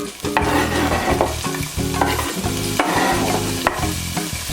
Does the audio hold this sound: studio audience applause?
no